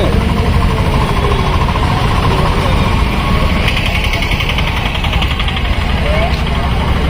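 Motorbike engines rumble steadily in a road traffic jam at Pamulapadu, a dense, continuous drone of idling and revving two-wheelers close by, with voices talking over the din.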